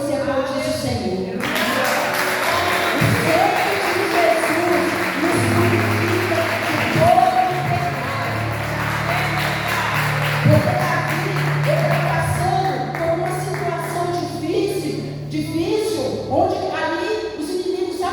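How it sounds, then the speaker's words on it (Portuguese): A church congregation applauds during a Portuguese-language worship service, a broad sustained wash of many hands clapping that runs for most of the span, with a low musical tone and some voices underneath. "Eu gostaria que você aplaudisse o Senhor."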